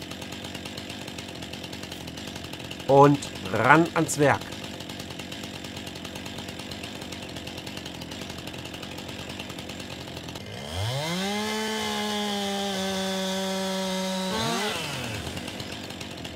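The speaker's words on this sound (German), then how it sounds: "Kettensäge frei." A chainsaw revs up and cuts into lying wood, a loud sustained whine with pitch dips under load that ends abruptly, after a short spoken line and a couple of pull-start bursts.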